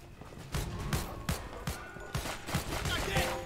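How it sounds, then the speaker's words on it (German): Gunfire in the GTA 6 Beta Simulator video game comes as repeated sharp shots spread through the scene, with the player speaking over them. "ich schieße so voll weit und rechts an ihm vorbei und treffe ihn"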